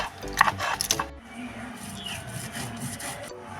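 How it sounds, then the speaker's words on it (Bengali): Peanuts, melon seeds, mustard and cumin being ground on a grinding stone give a rough, scraping rub with a few louder strokes at first. The grinding then settles into a steadier, softer grind close by. "বাদাম, মগজদানা, সর্ষে আর জিরে আমি এখন বেটে নেব এগুলো সব।"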